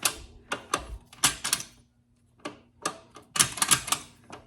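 The gear shifter on a 1970 Honda CB100 motorcycle, suspected of a stuck shift boot or shift fork, gives a series of sharp mechanical clicks and clunks in uneven bursts with a brief pause, close up.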